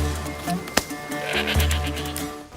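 A goat bleats in an Assassin's Creed video game cutscene, a wavering cry over a busy backdrop of game music and ambience, with no speech.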